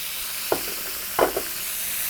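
Chicken in spicy tamarind cooking sauce sizzles steadily in a hot pan, broken by two short scraping bursts as it is tossed, close and without talk.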